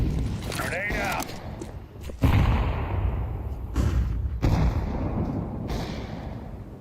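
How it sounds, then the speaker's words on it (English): A grenade goes off in Counter-Strike as a heavy, booming thud, followed by a few duller impacts, with a voice talking over the game. "Grenade out."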